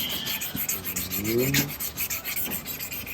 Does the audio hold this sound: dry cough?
no